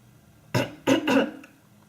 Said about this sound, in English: today I have this cough.